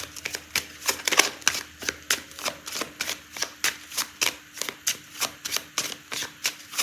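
Tarot cards being shuffled by hand, a steady run of crisp riffling slaps repeating in an even rhythm, close and clear with no talking.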